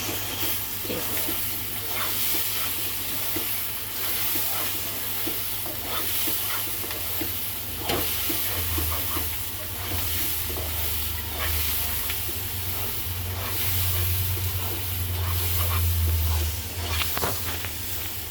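Beaten egg and masala fry in a pan, giving a steady close sizzle and hiss with repeated scraping and stirring strokes, and a voice speaks at times over the cooking.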